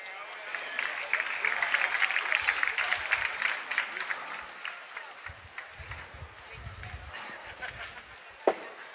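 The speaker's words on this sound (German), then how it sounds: "Applaus" Spectators at a women's triples petanque European Championship match applaud in a moderate burst that tapers off, followed by scattered low knocks and a sharp click near the end.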